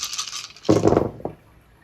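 Story dice tumble and rattle onto a surface in one short burst of clattering, followed by a small secondary knock as they settle.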